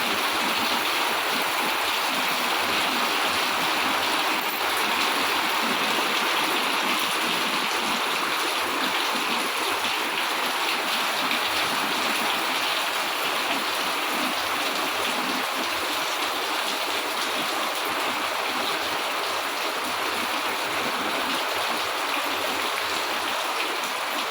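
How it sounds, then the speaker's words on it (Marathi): Heavy rain with floodwater rushing into a house, a steady, dense broadband wash of falling and flowing water that stays loud and even throughout, with no voices. "खूपच मोठा पाऊस आहे बघा. बघा सगळं पाणीच पाणी झालंय आज आमच्या दारात"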